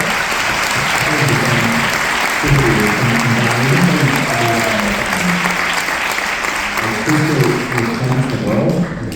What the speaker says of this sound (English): So, we just want to give you a big applause and hope to have you here next year.